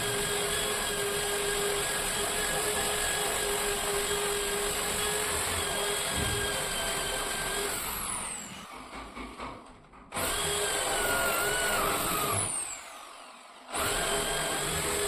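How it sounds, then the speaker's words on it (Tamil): A power drill bores holes through a wooden door to fit a Godrej lock, running loud and steady with high whine, then dropping out in two short pauses before restarting. "இந்த பிட்டு அந்த ரிங்கு அளவுக்காக இருக்குது இப்போ ஹோல்ஸ் போட்டு வேண்டியதான்"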